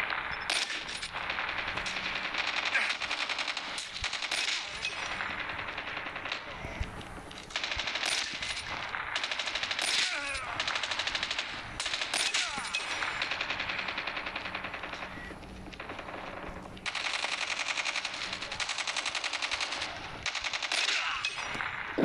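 Shotgun and other gunfire in a Call of Duty multiplayer match crackles almost constantly, with dense overlapping shots and clatter at moderate loudness and brief lulls between flurries.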